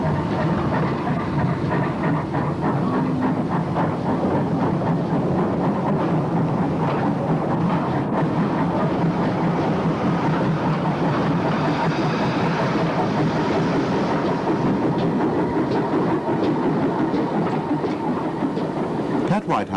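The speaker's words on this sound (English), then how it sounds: "the Monmouth auto train left from the Bay platform" A 1959 recording of the Monmouth auto train pulling out of the bay platform at Ross-on-Wye on the Wye Valley line: a steady, loud rumble with clickety-clack running unbroken throughout.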